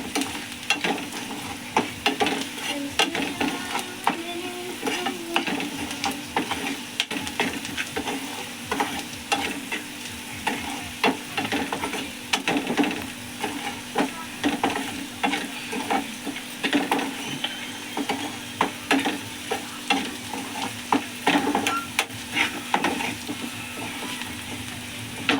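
Ingredients for Telugu-style Mageka pulusu fry in a pan over the stove, a steady close sizzle broken by frequent scraping stirs throughout, with no talking.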